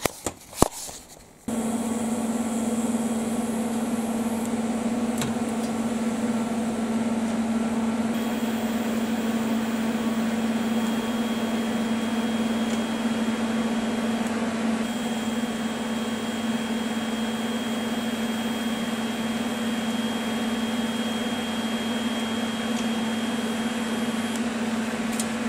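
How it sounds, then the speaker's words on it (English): Welding studs onto a steel oil drum: a steady, loud, continuous electric hum and buzz sets in after a short clatter and holds unbroken for the rest of the stretch, with no talking. "I just want to weld some studs on you now. I just want to weld down on there."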